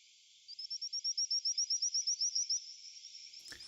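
A played recording of frogs giving a fast series of about sixteen evenly spaced, high, pulsing chirps, each repeating rhythmically, then a brief pause and a faint thump, with no voices.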